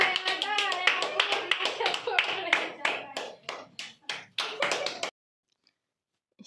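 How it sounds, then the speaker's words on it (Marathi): Sharp hand claps to draw young children's attention ring out in a quick, loud series, mixed with talking for about five seconds before cutting off into silence. "टाळ्या वाजून वरती बघावं लागलं"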